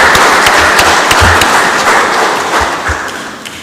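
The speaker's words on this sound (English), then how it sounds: "Let's all give her a big round of applause for and congratulations." A general assembly audience gives a loud, dense round of applause to congratulate a nominee, with steady clapping and a few thumps, easing slightly near the end.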